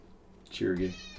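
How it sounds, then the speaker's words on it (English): A cat gives one short, clear meow, near and moderately loud, over a quiet background with no talking. "I apologize for my noisy cat."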